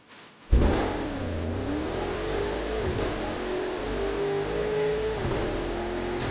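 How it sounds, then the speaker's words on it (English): A video game car engine fires up with a sudden burst, then settles into a steady revving drone whose pitch slowly climbs and dips, loud and close with no talk. "Hold the accelerator to fire up the engine."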